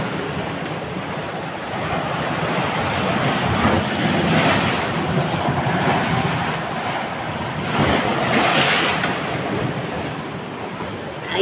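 Sea surf rolls onto the shore at low tide in a steady broadband wash that swells and recedes, mixed with wind buffeting the microphone, with no voices present.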